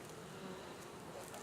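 Bees buzz in a steady, low drone around an opened double-deep hive as its top box is lifted off, faint and continuous throughout.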